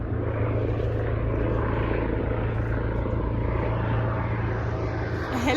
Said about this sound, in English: A helicopter again.